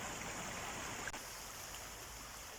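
A river runs over cobbles and gravel with a smooth glide and a riffle, a steady close hiss of rushing water that continues unbroken and alone throughout.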